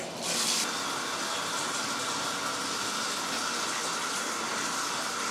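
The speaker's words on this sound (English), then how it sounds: "So I'll go run a tub." Water runs steadily from a faucet into a bathtub, a continuous broadband rushing and gushing with no pauses, moderately loud and close, with no talking.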